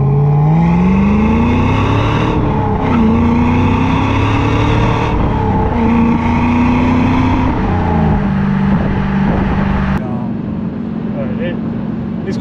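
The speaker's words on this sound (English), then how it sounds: "gonna let that LS1 sing a little bit" A 2002 Pontiac Trans Am WS6 with its LS1 V8 revs up loudly while driving, the engine note climbing and falling through several pulls over steady road noise, with someone talking throughout.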